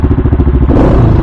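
CCM Maverick Spirit 600cc motorcycle with a Husqvarna engine, a loud close thumping idle that swells into a short rev, no talk.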